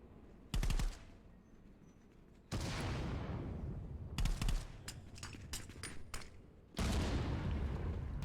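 Bursts of automatic gunfire in the VR shooter ContractorsVR, loud rapid volleys separated by short pauses, with a few single shots and a rattling exchange in the middle.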